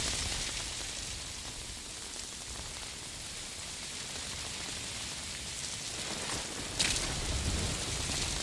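Steady heavy rain pours down in the stealth video game Metal Gear Solid 5 Ground Zeroes, a constant hissing wash with a brief sharper splash near the end.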